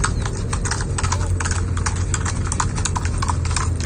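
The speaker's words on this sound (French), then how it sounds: "Regarde comment il marche le cheval." A horse walking on a street in a small Colombian town, its hooves clip-clopping in a steady, close, fairly loud rhythm.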